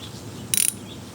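A socket wrench gives a short, quick ratcheting burst while driving a bolt during a fuel caddy install on a vehicle, a single brief clatter of clicks over quiet background.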